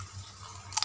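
Crispy homemade fried banana chips are bitten, with a quiet pause followed by a short burst of close, crackly crunching near the end.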